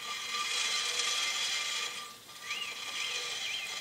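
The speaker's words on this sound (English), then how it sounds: "All you're hearing there is just brake shoes." Brake shoes lightly scrape against a freshly replaced brake drum on the Dana 70 axle of a 1993 Dodge D250, a faint, steady rubbing hiss that dips briefly and returns with a few squeaky rises.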